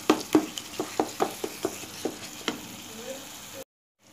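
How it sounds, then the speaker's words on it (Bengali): Thick masala paste with fried onion and raisin paste frying in a pan for a dim kosa curry, with a run of sharp, evenly spaced spatula scrapes over a soft sizzle, close and clear, ending abruptly. "বেরেস্তা আর কিশমিশ বাটাটা দেওয়ার পর আমি আরও 2 মিনিট মতো মশলাটা কষিয়ে নেব।"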